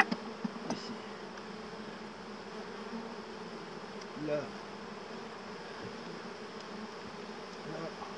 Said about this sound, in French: il y a tellement d'abeilles dans cette boîte